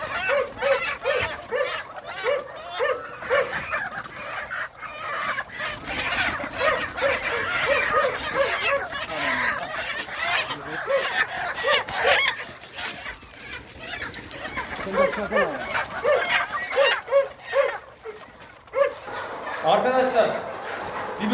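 Black chickens clucking and squawking throughout, busy and close, as they are unloaded into a coop, with occasional voices and handling noise mixed in.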